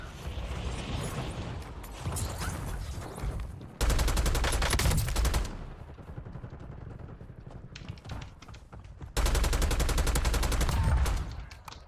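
An AK-74 rifle fires in the video game Call of Duty Warzone in two loud, sustained automatic bursts, with mechanical clicks and handling noise in between.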